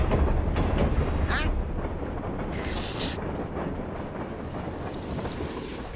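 A train carriage rumbles steadily along the rails with a dense, continuous roar and occasional rattling, close and loud throughout.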